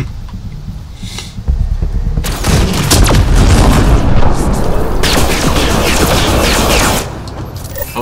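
Gunfire and explosive blasts from the Apex Legends battle royale shooter, a dense, loud barrage of booming shots that swells after a quieter start and holds for several seconds before easing off.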